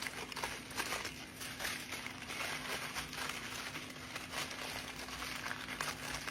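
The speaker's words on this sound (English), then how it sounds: "Next, I'm adding a foil packet of sweet potato." Faint crinkling of a foil packet holding sweet potato, a soft continuous rustle and crackle heard close in a quiet kitchen, low in level with no talk.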